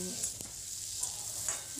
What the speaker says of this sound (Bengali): ভাজা ভাজা করে সবজিগুলো ভেজে নেব